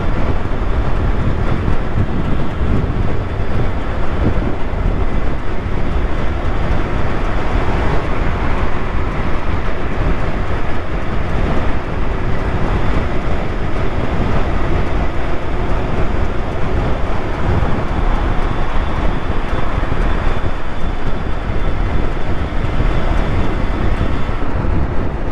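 An electric bobber motorcycle cruises along with constant loud wind roar buffeting the microphone, a dense steady rumble and faint rattle beneath, unbroken for the whole stretch with no voices.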